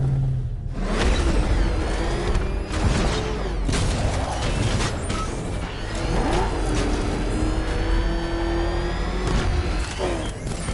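In Batman: Arkham Knight, the Batmobile's engine revs and roars continuously, with whooshing passes and shifting pitch, loud and close throughout.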